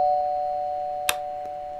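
Doorbell in Duck Duck's Halloween Island, its sustained tone fading out steadily, with a short click partway through and another sound starting at the end, close and fairly loud.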